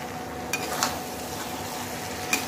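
Papaya pieces fry in a pan for a soybean and papaya dish, with a soft continuous sizzle and a few brief scraping stirs of a spoon against the pan, close and steady, without any talking.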